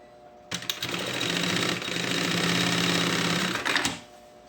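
A sewing machine runs in one continuous burst of about three and a half seconds, stitching the side seams of a lunchbox panel. The whirring rattle is close and even, with a short pause near the middle, and silence on either side.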